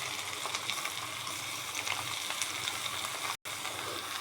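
Small kachki fish frying in hot oil in a pan, with a steady, fairly quiet sizzle and crackle that runs continuously and breaks off briefly near the end.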